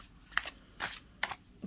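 Universal Goddess Tarot cards shuffled by hand in three quick, close riffling bursts separated by short pauses, with no talk.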